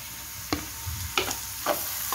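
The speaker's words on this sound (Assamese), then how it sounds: "বডি বা নেচেৰাখিনি আমি ইয়াত অলপ দেৰি ভাজিব লাগিব" Carrots and beans stir-frying in a pan for chicken fried rice, with three sharp spatula scrapes against a steady low sizzle, spaced about half a second apart.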